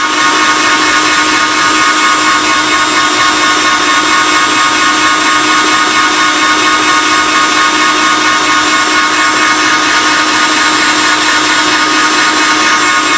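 A stand mixer runs steadily, beating mint chocolate chip ermine frosting, a cooked flour frosting, with a loud continuous motor whir and no voices throughout.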